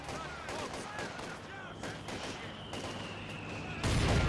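Rifle volley from infantry squads in the World War II strategy game Company of Heroes 2, a burst of overlapping shots amid battle noise under a commentator's voice, with a louder blast near the end.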